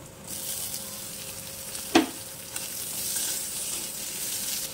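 Chopped onion and green chili frying in oil with ginger and garlic in a wok, a steady soft sizzle throughout with one sharp clink of a utensil near the middle.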